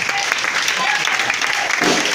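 A church congregation applauding God during a service: dense, sustained clapping fills the room loudly and evenly throughout, with a voice speaking over it.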